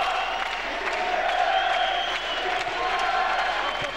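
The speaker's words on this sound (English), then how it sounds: "Fans are cheering again." Volleyball fans in an arena crowd at a CEV Champions League semi-final involving Fenerbahce cheer and applaud steadily, a dense, fairly loud roar of clapping and voices that holds throughout.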